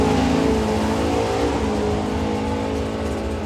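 A shotgun Mustang drag racing car launching down the strip at a Doorslammers 2024 drag racing event, with a loud, steady, close engine roar held without a break.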